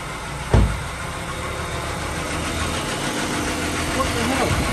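Ford Falcon BF XR6 with the Barra straight-six, suffering engine sludge and a VVT cam solenoid fault, idles steadily with a close, continuous hum after a brief thump near the start, with voices talking over it.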